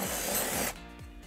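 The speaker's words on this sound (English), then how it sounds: "we're gonna drill our first hole" A power drill with a 3/16-inch bit whirs loudly as it bores through the bumper of a 2014 Kia Forte, then the noise drops abruptly as the bit breaks through and winds down.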